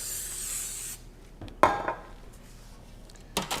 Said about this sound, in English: So I just spray my pan lightly.